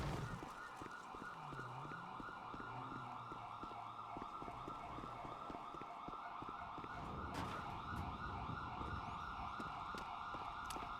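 Two emergency sirens wail together in a roleplay video game, their rising and falling tones steady and fairly loud over a low engine hum for the whole stretch.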